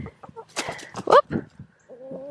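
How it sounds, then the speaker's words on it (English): Chickens being hand-fed autumn olive berries give short, close clucks and a brief squawk, mixed with scattered movement and other noises. "But the chickens love them."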